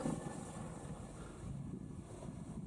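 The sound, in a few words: strong wind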